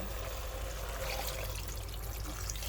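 Steady trickle of water pouring into a cooking pot for pork sinigang with watermelon, a continuous close splashing stream with no voices.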